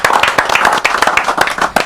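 An audience at a press conference in Paris bursts into dense, close applause, many hands clapping rapidly and continuously for the whole short stretch.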